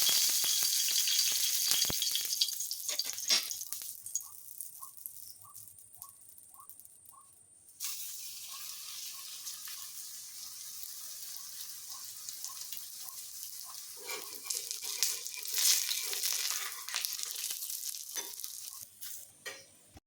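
Papad rolls frying in oil on a tawa give a faint, crackling sizzle with scraping and rattling stirs, including a short run of evenly spaced clicks partway through, all without talking.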